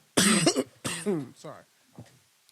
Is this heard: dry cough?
yes